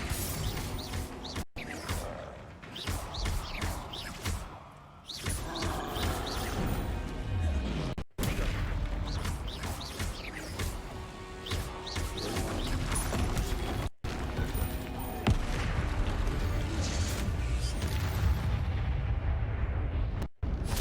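Spell impacts and explosions in Hogwarts Legacy combat, a dense run of heavy crashing blasts and thuds with booming low rumble, loud and close, almost continuous across the stretch with brief gaps.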